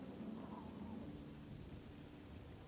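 Steady rain and low rumbling thunder in the Elder Scrolls IV: Oblivion video game, a faint, even wash of rainfall with no talking.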